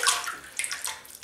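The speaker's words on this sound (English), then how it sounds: "Dip the brush in the water." A shaving brush dipped into a basin of water and wiggled about, giving soft close splashing and swishing bursts with short pauses between them, heard alone with no talk.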